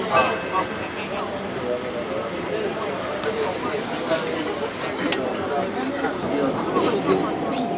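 Steady rumble and rattle inside a moving Singapore metro train, with people talking and chattering nearby throughout.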